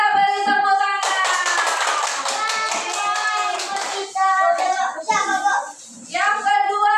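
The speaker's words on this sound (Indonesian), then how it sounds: "Kita beri tepuk tangan." A children's class applauds: a burst of scattered hand claps rises after the first second and fades by about three seconds, with children's voices chattering and calling out around and after it.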